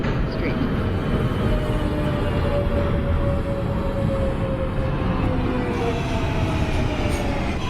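A simulated NYC Subway R142A 4 train runs steadily in OpenBVE, its dense rumble and rolling rail noise constant throughout, with a faint rising whine of the motor beneath.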